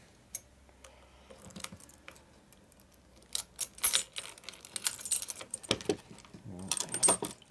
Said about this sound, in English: gotta get rid of the key on here because I got too many keys bothering me